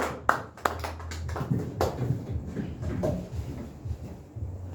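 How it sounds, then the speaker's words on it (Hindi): Sparse applause from a small audience at a poetry open mic, a few sharp individual claps up front that thin into scattered clapping and room murmur. "एक बार डीपीएसआर भाई के लिए तालियां दोस्तों"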